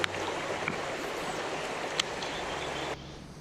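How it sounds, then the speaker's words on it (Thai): A flowing stream rushes steadily during fishing, a continuous broadband wash with a couple of faint clicks, cutting off quieter near the end. "อันนี้ก็คือเป็น ลำธารครับผม"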